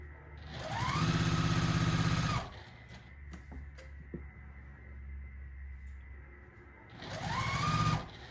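A sewing machine stitches a quilt block in two loud bursts, with a quieter pause between them filled with faint handling noises.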